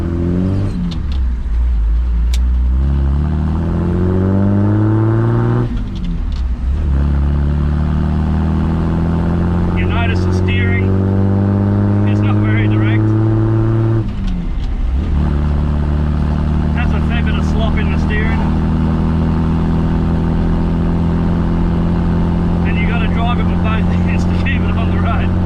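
An old Mahindra 4x4 with no power steering or air conditioning drones loudly from inside the cabin, its engine note rising and falling through gear changes, while someone talks over it.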